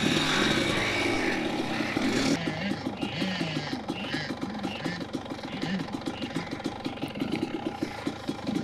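A Kawasaki KX85 or KDX220 dirt bike idles close by on hot desert trails, with a steady rhythmic putter. Riders talk over the engine.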